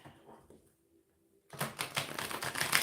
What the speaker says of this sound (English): let's get these tarot cards shuffled here